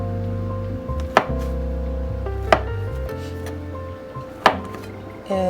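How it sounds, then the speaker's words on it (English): A knife cuts tempeh into strips with three sharp chops onto a board, spaced a second or two apart, over a low steady background hum. "I'm just gonna cut it up into strips and fry it"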